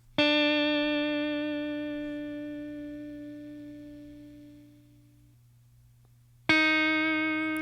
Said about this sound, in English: Now this was created with an American Stratocaster through a Fender Deluxe Reverb amp.